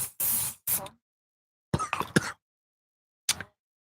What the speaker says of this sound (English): that's where you can hear spraying.